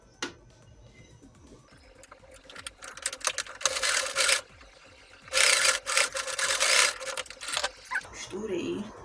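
A sewing machine stitches over an existing seam on a homemade pencil case, its motor whirring in two loud bursts with softer mechanical ticking between them.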